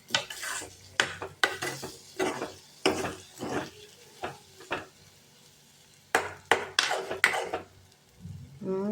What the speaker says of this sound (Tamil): இப்போ நல்லா கிளறி விட்டுக்கோங்க